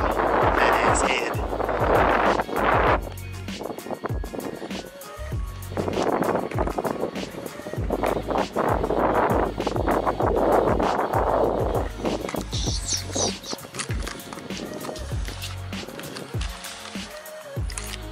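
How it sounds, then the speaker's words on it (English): Strong gusty wind buffets a microphone outdoors at night, with loud low rumbling bursts rising and falling throughout and brief voices mixed in. "Sorry guys, for all the wind. There's a bunch of wind."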